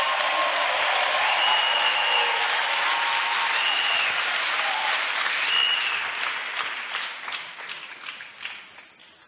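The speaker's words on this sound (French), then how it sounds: "Let's clap for Jesus." A church congregation applauding for Jesus, a dense, loud burst of many hands clapping that holds steady and then thins out and fades over the last few seconds.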